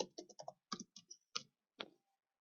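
Keys tapped on a computer keyboard, about ten quiet clicks in a quick uneven burst, then one last isolated keystroke, close and soft with no talking.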